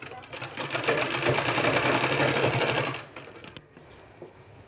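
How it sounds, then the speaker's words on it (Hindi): Sewing machine running steadily as it stitches along the edge of a kurti, a close mechanical whir for about three seconds that then stops, with a voice speaking alongside it. "पूरा हमको किनारे में पूरा सिलाई करते जाना है इस तरह से।"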